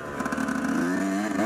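Yamaha YZ dirt bike engine running close by, a loud two-stroke buzz holding a fairly steady idle with slight rises in revs, heard alone without speech.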